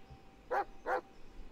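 A dog in the Blair Witch video game gives two quick, moderately loud barks in close succession, then quiet.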